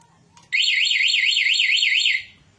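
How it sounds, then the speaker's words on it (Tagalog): Warbling electronic siren of a one-way alarm installed on a Honda XR200 motorcycle, a loud steady up-and-down wail lasting about one and a half seconds after a brief click, then cutting off. "XR200 installation one way alarm."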